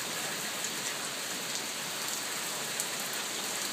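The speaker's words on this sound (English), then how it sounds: "Well, the rain has started." Moderate rain falls steadily and evenly on surfaces outdoors during a storm, a constant close hiss with little wind, sounding alone throughout.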